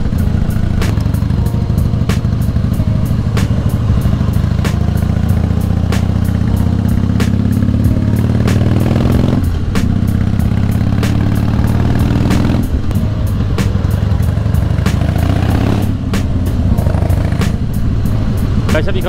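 A Harley-Davidson motorcycle rides on through the East Westphalia-Lippe area toward Schloss Corvey near Höxter, with a loud, continuous engine rumble and a steady mid-range drone throughout, rising briefly as if revving.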